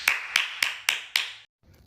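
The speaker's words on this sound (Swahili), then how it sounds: "Makofi." Five sharp, evenly spaced hand claps ring out close and crisp, followed by a brief silence and faint background noise.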